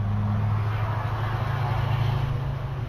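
Truck passing on the road outside an open-air garage, a steady low engine drone with a strong humming tone and broad road noise, moderately close and holding level throughout without voices.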